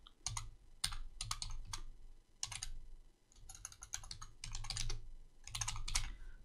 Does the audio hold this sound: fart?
no